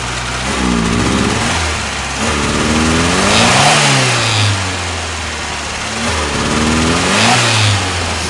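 A Fiat car engine with an odd chugging fault chugs and revs unevenly up close, rising and falling in loud surges over a rough low rumble.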